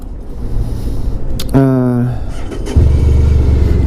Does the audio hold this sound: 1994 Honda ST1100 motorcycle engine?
yes